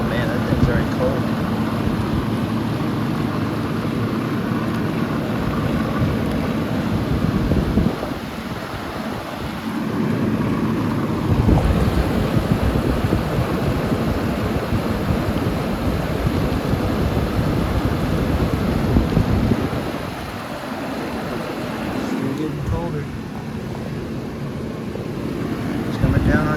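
A vintage Carry Cool 5000 BTU window air conditioner runs with a steady, loud whooshing blower and hum close by. Intermittent voices talk over it.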